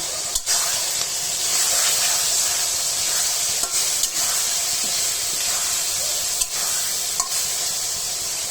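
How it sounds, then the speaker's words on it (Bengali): Ginger-garlic paste, cardamom and bay leaf sizzle loudly in hot oil for fried rice: a continuous close hiss, broken by a few brief scraping stirs. "এখন আদা রসুন বাটা দিয়ে দিব, এলাচ, তেজপাতা,"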